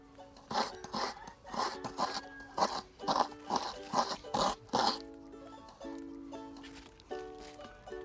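Coconut grated by hand while sitting astride a traditional grater on Moorea in Polynesia, a steady run of about a dozen rhythmic scraping strokes, close by, over a soft tonal background.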